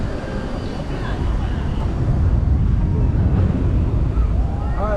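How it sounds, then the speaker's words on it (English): Steady wind roars and buffets the microphone outdoors at Universal Studios Hollywood, a broad rumbling noise that fills the whole clip with no clear pauses. "Oh my God, it's windy"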